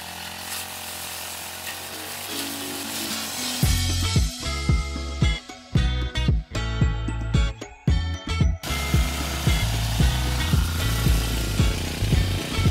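A grass cutter engine runs loud and steady while vegetation is cleared outdoors, idling low at first and then revving into harsh, uneven bursts as the blade bites into growth.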